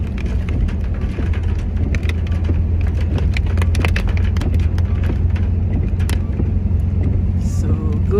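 Car engine rumbling while driving downhill on a slippery, foggy mountain road with gear changes, a steady low drone with scattered knocks and rattles, and people talking over it.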